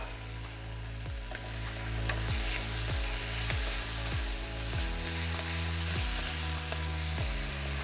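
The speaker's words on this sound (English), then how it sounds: "you just want to let that tomato ketchup cook in" Heinz tomato ketchup cooking in a pan with chicken and tomatoes for a Chinese dish, giving a soft, steady sizzle under a low, rhythmically pulsing background tone.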